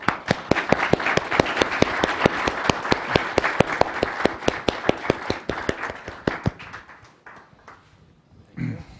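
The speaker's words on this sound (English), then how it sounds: "just give them a big round of applause" Applause for a panel after a talk on online extremism, starting as a loud burst of sharp, dense claps that thin into a few scattered claps, then fade; a brief voice is heard near the end.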